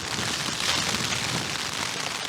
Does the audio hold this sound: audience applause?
no